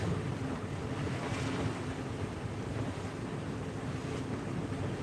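A sailboat rolls along at about six and a half knots on the Hood Canal, water rushing steadily past the hull under constant buffeting wind noise, with no voices.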